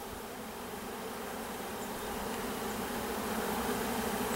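Honeybees drone in an opened hive during a spring split, a dense continuous buzz that swells slightly louder toward the end, close by with no voices.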